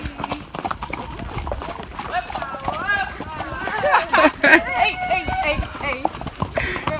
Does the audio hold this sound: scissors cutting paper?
no